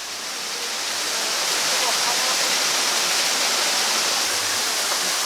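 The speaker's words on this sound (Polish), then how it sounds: "żeby zobaczyć wodospad" Mountain waterfall in Cyprus roaring as a dense, constant wash of broadband rushing water, loud and close, swelling slightly at the start and then holding steady.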